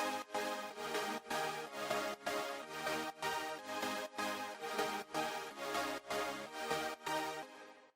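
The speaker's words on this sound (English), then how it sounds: "I added this drop chord synth, which is basically a really simple supersaw." A bright, simple supersaw synth stacks wide drop chords in a dance track, hitting in a steady rhythmic pattern of loud, full, sustained stabs with short gaps between them throughout.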